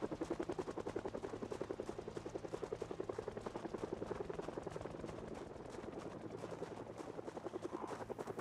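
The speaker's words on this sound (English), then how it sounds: "it sounds like the helicopter's flying away" A helicopter in a video game flies away, its steady rotor chop pulsing quickly and evenly at a faint, distant level with no talk over it.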